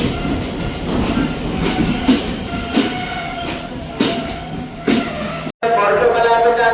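Train at Polgahawela railway station, a major stop in Sri Lanka, with steady rumbling rail noise and rhythmic wheel clatter running throughout, loud and close, and a brief cut near the end.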